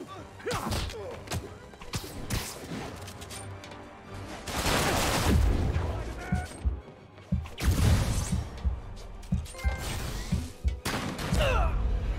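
Gunfire from snipers in Marvel's Spider-Man (2018) on PS4 Pro, scattered thumping shots and impacts amid combat noise and bursts of game voices.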